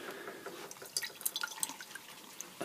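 Water drips from a washbasin tap in an outdoor barbecue gazebo, a faint run of light irregular plinks and patters close by, with no voices.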